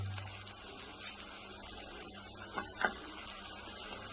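Ridge gourd pieces drop into a frying pan of golden-browned onions and sizzle with a soft, steady hiss, a few louder spits rising near the end, heard close and without talking.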